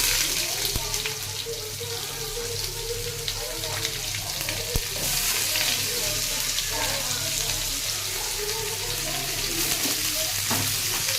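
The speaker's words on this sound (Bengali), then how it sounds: "পেঁয়াজগুলোকে ভাজা হবে।" Onions fry in a pan after black cumin seeds and a dried chili were tempered in oil, making a steady, even sizzle with a low hum underneath and occasional sharp ticks.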